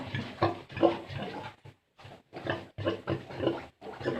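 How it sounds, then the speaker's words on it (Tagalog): A large sow grunts in a rapid series of close, loud, rhythmic bursts with brief pauses between them. "Malaki tong inahing baboy na ito."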